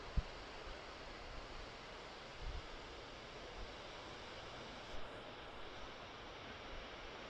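A man-made waterfall at the Wadi Namar dam in Riyadh pours with a faint, steady rushing hiss heard from a distance, broken only by a few soft bumps.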